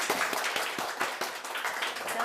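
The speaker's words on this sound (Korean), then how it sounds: "배헌 교수님을 큰 박수로 앞으로 모셔볼게요" A lecture audience claps in a dense, steady patter of many hands at moderate volume, filling the short stretch without voices on top.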